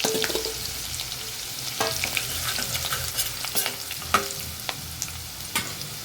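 Garlic-ginger paste and chopped capsicum sizzle in a pan with bay leaves and whole spices, a soft steady fry broken by a few sharp scrapes and clinks of stirring.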